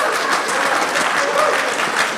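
An audience at a talk on the 2009 economic crisis applauds with a steady, even patter of clapping hands throughout.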